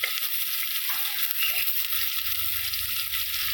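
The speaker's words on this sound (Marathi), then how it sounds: "आता कांदा छान हलवून घ्यायचा." Finely chopped onion sizzles steadily in a pan over a wood fire, with a continuous close frying hiss and occasional scrapes of stirring throughout.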